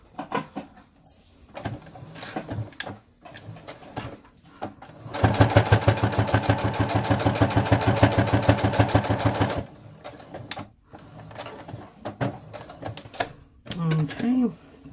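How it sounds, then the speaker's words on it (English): A sewing machine runs steadily for about four seconds, stitching a straight seam an eighth of an inch from the edge of a flat zipper pouch, with a rapid mechanical rhythm. Talk comes before and after the stitching. "we're going to do is just sew a straight line about 1/8 of an inch"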